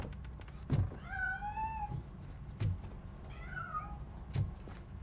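A cat meows twice in the RoboCop: Rogue City video game, drawn-out plaintive cries heard from nearby, with a few dull thumps around them and no talking.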